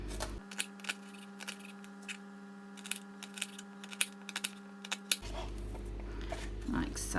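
A knife slices peeled, topped onion halves on a board in a run of sharp, irregular taps, close and distinct over a low steady hum.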